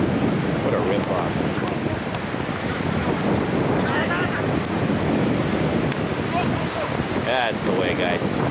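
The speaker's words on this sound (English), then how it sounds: "The umbrella, because the wind is vicious." Strong, gusty wind at Sauble Beach buffets the microphone in a steady, loud roar, with surf and faint beach activity beneath it.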